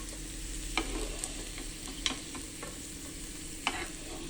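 Garlic cloves fry in two spoons of oil in a pan, giving a steady close sizzle with a few sharp scraping clicks as they are stirred, and no speech.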